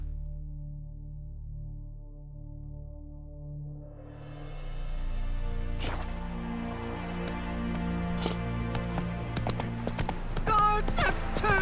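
Horse hooves clip-clopping in The Witcher 3, a steady gait that builds and grows louder midway, layered over game music and ambient sound with brief voices.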